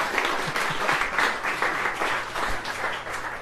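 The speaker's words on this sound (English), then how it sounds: "Feel free to clap." Audience at a comedy stand-up show at Dickinson College applauding, a sustained crowd clap with uneven swells and dips, fairly loud and close, over a faint murmur.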